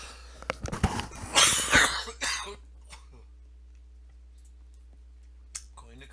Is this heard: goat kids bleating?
no